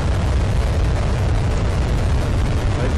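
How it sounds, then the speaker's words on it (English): A United Launch Alliance Delta IV Heavy rocket lifting off, a massive continuous roar with deep rumbling bass and crackling texture, loud and unbroken from start to finish. "liftoff of the United Launch Alliance Delta IV Heavy rocket with NROL-71 for the National"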